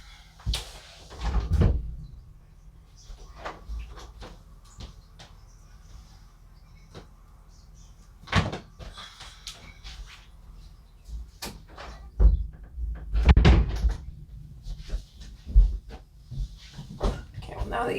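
A household door swings open and shut with cats nearby, giving several sharp knocks and thuds scattered over a quiet room, with some louder clustered bangs toward the end.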